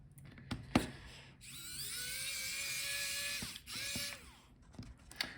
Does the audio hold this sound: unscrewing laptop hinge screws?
yes